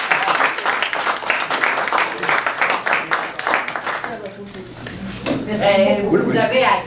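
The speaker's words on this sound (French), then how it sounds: "Moi, j'ai besoin d'applaudissements pour madame." A small group claps for a woman at a community meeting, a close, brisk burst of applause that thins out and gives way to people talking.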